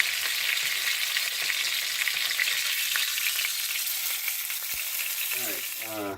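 Beef searing in a hot pan for beef Wellington, a steady loud sizzle and crackle of fat throughout with a few sharp pops and a brief scrape near the end.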